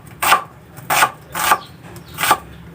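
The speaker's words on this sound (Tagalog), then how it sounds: "Ang ating sibuyas, iwain na rin natin." A kitchen knife slices through an onion on a cutting board, four crisp, evenly spaced chopping strokes close up, with no voices over them.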